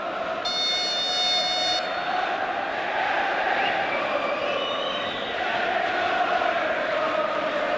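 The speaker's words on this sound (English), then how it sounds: "The crowd warming up." A boxing crowd in an arena in Belfast warms up before a fight, with a broad, sustained murmur of many voices and scattered shouts. A short electronic tone sounds early on and faint whistles come later.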